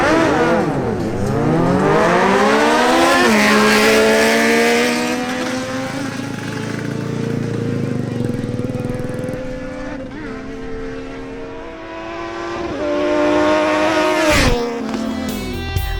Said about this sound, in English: 5th round of the Barranquilla 2025 quarter-mile drag racing championship.